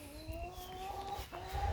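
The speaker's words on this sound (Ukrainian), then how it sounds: "Ось кури породи Ломан Сенді" Five-month-old Lohmann Sandy hens cluck and murmur softly close by, with a few short calls over a low rustling background, no talking.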